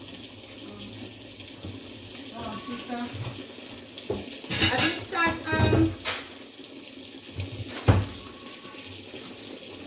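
Water running from a kitchen tap while food is washed in a colander: a steady trickle with splashy surges and clinks, close by, with a person talking briefly over it.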